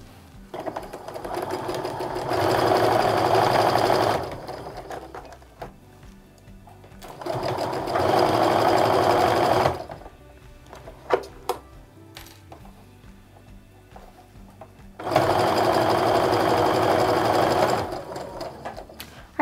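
A sewing machine stitching quilt rows together for a fall maple leaf log cabin quilt runs in three steady bursts of a few seconds each, with quiet pauses and faint handling clicks between them.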